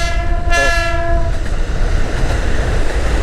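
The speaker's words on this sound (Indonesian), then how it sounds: "Tuh kereta lewat tuh guys, kayak kereta lewat mengarah ke Tanah Abang." A passing train heading toward Tanah Abang sounds a loud horn blast at first, then a steady heavy rumble of rolling wagons continues close by.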